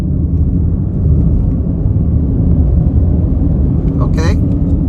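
A 2023 Nissan Rogue S AWD pulls hard in third gear on paddle shifters, its engine a steady low rumble heard from inside the cabin, with a brief voice near the end.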